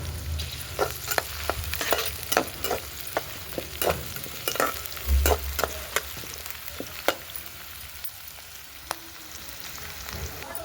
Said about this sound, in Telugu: నూనె కూడా వేడైపోయింది ఫస్ట్ ఉల్లిపాయలు వేసుకుందాం ఉల్లిపాయలు అయితే వేసాను